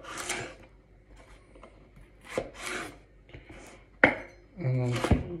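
A knife chops carrots into small dice on a board, giving sharp irregular thuds and scraping strokes spaced apart, with some faint background sound.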